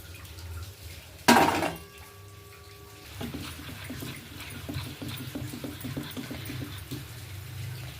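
Eggs being stirred with salt, turmeric and Kashmiri chilli in a bowl for steamed eggs, a steady run of soft scraping and light clinks of utensil against the bowl after a sharper knock.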